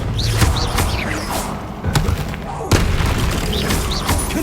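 Bombarda explosive spell in Hogwarts Legacy: a loud, close boom, followed by further thuds and blasts within a few seconds, set against busy game noise and voices.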